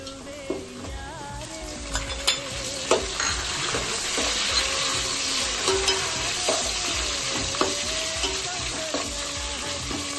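Green chillies frying and being stirred in a pan while cooking chicken biryani, a continuous near sizzle with repeated spoon scrapes and light knocks against the pan, no speech.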